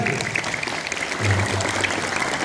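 Steady applause from students at a school flag ceremony, a dense wash of clapping that carries on throughout without a break.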